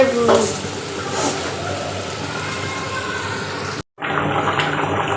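Dried fish curry frying in a pan on a home stove, a steady sizzling hiss throughout that cuts out briefly near the end, with someone talking over it.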